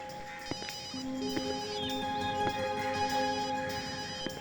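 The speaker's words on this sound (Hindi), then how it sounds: "सर घंटी बज रही है।" A phone ringtone plays a repeating electronic melody, steady and fairly close, with a few soft knocks and bumps in the background.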